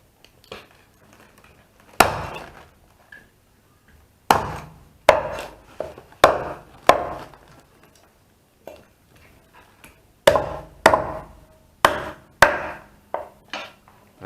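Large knife chopping fish on a board to make koi pla, with firm, separate strikes in short irregular bursts, close and clear, with quiet pauses between groups.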